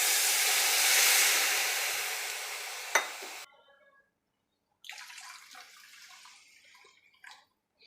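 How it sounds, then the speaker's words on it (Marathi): Water pours into a pot while cooking, a loud steady rushing splash for about three seconds, ending with a clink, followed by quieter sizzling, bubbling liquid sounds after a short pause. "आता 2 वाटी पाणी मी याच्यात ॲड करणार आहे।"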